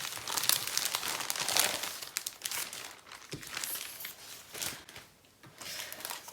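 Papers and plastic packaging rustle and crinkle as a scrapbooking kit is opened, with busy crackling bursts coming and going close by before settling into quieter handling.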